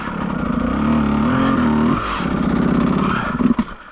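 Beta 200RR enduro dirt bike revving hard on a rough hard enduro trail, its buzzy two-stroke note rising and falling, cutting off abruptly near the middle, then picking back up with sharp blips at the end.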